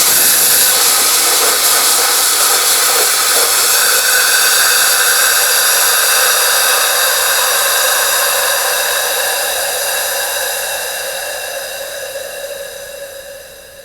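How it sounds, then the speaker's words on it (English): A Cryonite dry ice gun is triggered to empty its hose, giving a loud, steady rushing hiss of released material that holds for several seconds, then slowly tapers off, with no talking. "we go ahead and empty our hose. We do that by actuating the gun."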